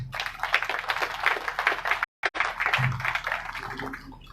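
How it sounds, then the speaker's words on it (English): Audience applause welcoming the Chief Minister of Goa, Dr. Pramod Sawant, at a helipad opening ceremony: dense, steady clapping from a crowd, broken by a brief gap midway. "Let us welcome him with a big round of applause"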